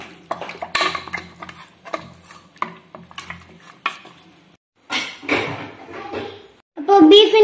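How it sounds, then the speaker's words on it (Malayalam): A spoon stirring beef leg masala in a metal pot, with repeated scraping and clinking strokes in bursts, a pause, then louder clattering of utensils near the end. "ഇനൊന്ന് മിക്സ് ചെയ്ത് കൊടുക്കാം"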